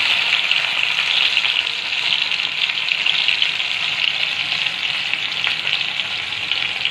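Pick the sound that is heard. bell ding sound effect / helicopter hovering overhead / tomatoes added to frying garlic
tomatoes added to frying garlic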